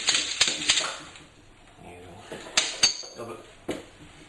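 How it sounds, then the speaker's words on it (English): A small brake release on a woodworking clamp clicks a few times during a chair repair, sharp metallic clicks and clinks spaced unevenly, close up with quiet pauses between. "click it and it opens the clamp"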